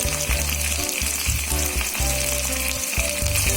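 Onions frying in a pan of oil with curry leaves and garlic for a paneer cauliflower masala, a steady loud sizzle with bursts of crackle and stirring, close up and continuous.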